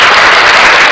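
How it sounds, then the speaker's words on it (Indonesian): A short, very loud burst of lively applause fills the space, a dense wash of many hands clapping at once with no pauses and no voices. "Ayo tepuk tangan yang meriah."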